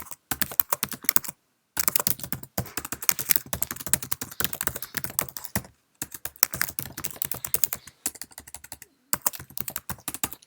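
Typing on a Mac computer keyboard while writing an email, quick runs of crisp close key clicks broken by short pauses, with no speech.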